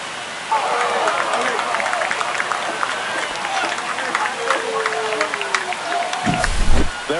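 A home baseball crowd at a Diamondbacks vs Dodgers game roars and cheers after a home run, a steady, dense wall of noise holding throughout, with a deep rumble swelling near the end.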